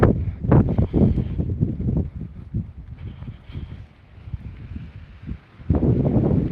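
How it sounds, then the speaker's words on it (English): Gusty wind buffets the microphone in heavy low rumbling bursts during a late-night village walk in Hadlow, Kent, England, strongest at the start and end, with a quieter lull through the middle. "Very windy"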